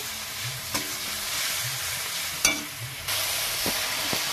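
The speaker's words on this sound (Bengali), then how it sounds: "এবার আমি মশলাটাকে ভালো করে কষে নেব।" Spice paste stir-fried in a pan for a tilapia and cauliflower curry, hissing and sizzling steadily up close while a spatula knocks and scrapes several times at irregular moments.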